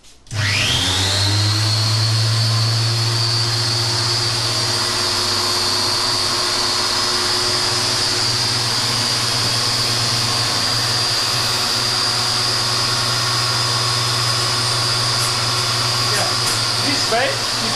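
A chainsaw chain sharpening machine runs in a garden setting with a steady, loud motor whine and hum that starts abruptly and holds unbroken, plus faint scraping near the end.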